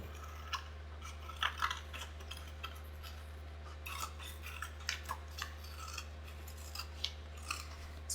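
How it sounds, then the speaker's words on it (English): Scissors snipping through decorative paper for a handmade envelope, a quiet series of short, irregular cuts at close range over a low steady hum, with no talking. "I've got my paper here, which I'm going to then cut to make my pretty envelope"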